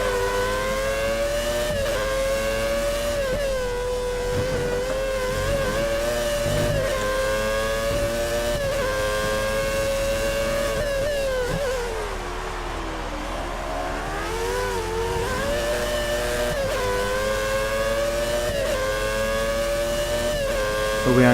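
A Formula 1 car engine in the F1 2013 racing game, 1990s-era car at Montreal, screams at high revs throughout, pitch rising and falling with gear shifts and a brief dip mid-run, loud and continuous.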